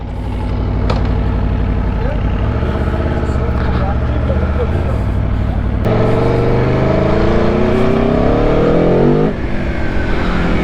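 A 2024 Aprilia Tuono V4 1100 Factory motorcycle's V4 engine roars loudly and continuously during a ride, with rising and shifting revs; a brief voice may come through under the engine noise.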